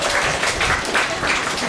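Steady, full applause fills a school celebration at SMA Santo Arnoldus Janssen in Kupang, with a dense wash of many hands clapping together and no pause.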